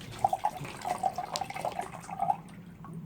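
Water pours down into a swirling vortex in a home container, a soft gurgling trickle with small bubbly drips, close and fairly quiet, fading toward the end.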